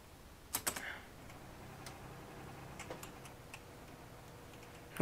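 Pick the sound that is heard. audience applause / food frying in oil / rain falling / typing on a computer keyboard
typing on a computer keyboard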